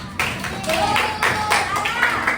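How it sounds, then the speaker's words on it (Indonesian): Classroom clapping during a Pancasila lesson: several quick, rhythmic bursts of hand claps from a group, close and fairly loud, with voices mixed in. "Tepuk tangan."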